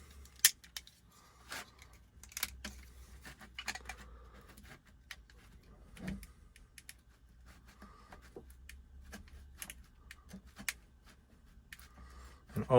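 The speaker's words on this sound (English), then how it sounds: "Now if we just cut along this last one." A knife blade cutting material: a few sharp snips and scratchy cuts in short irregular bursts, close and quiet against near silence.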